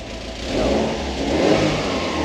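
Subaru Bugeye WRX with a swapped-in STI six-speed revving as the throttle is blipped, a steady mid-pitched engine drone that swells in two pushes, heard close with no talk.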